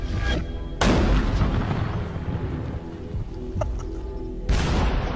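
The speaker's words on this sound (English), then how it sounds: "The music you're hearing is a cannon. Fire!" Two heavy cannon blasts boom out, one early and one near the end, each leaving a rumbling roar that lingers between them.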